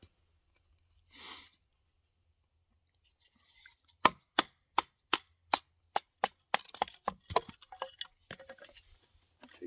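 A Marttiini puukko knife is knocked through a piece of wood to split it. A run of sharp, evenly spaced wooden knocks is heard close up, then a quicker, lighter cluster of taps and cracks. No voices.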